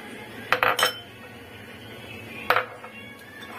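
Plates and cutlery clatter in a home kitchen while five kinds of fried dishes, including fish, potato and pointed gourd, are served out. Two short bursts of clinking ring out against a quiet background.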